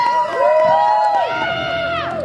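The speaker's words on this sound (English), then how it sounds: "Good to see those boys out here cheering on their buddies." Young boys cheer and shout from the crowd at a youth hockey championship rink, high excited voices rising and falling in close, steady bursts across the whole moment.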